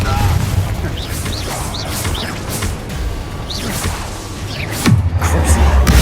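Confringo fire spell blasting during Hogwarts Legacy combat on PS5, with a whooshing launch and a heavy boom near the end, set among game effects and voices.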